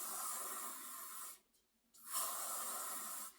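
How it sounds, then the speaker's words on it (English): Spray paint on a gothic Easter decoration makes a close, steady hiss in two long bursts separated by a brief pause. "we continue spraying"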